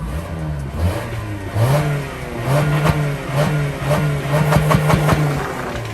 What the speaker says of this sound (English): here's what it normally sounds like from just a regular Corolla that has not been touched.